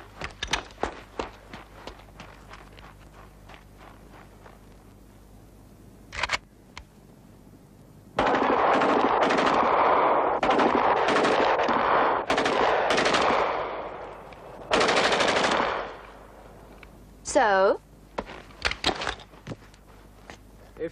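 Automatic rifle fire at an outdoor shooting range in a 1990s action film: several loud sustained bursts, each lasting a few seconds, follow scattered single shots and footsteps, with a final short burst near the end.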